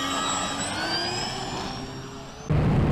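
Aircraft engine roaring steadily at close range with a high whine, surging louder near the end as the engine runs up, no voices present.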